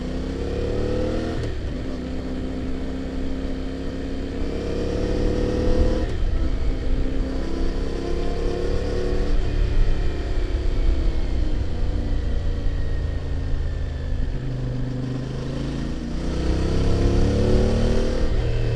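A CF Moto motorcycle engine drones loudly and continuously on deep forest roads, its pitch rising and falling as the rider throttles up and eases off through corners.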